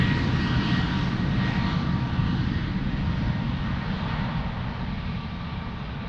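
An airliner on final approach to runway 02 at Lisbon Airport gives a steady, broadband engine roar, loud and continuous with a faint high whine, fading only slightly over the span.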